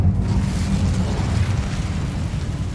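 A fire spell from a Hogwarts wizarding game lands with a heavy, rumbling whoosh of flame that holds steady and loud, a thick low roar with no voices over it.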